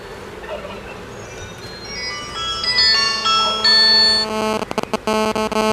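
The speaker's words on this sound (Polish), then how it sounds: "no teraz mam telefon zaraz" A melodic ringtone plays, its tonal notes rising in loudness, then breaks into choppy repeated bursts near the end, over light background noise.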